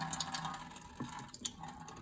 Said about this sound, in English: It's water drain off.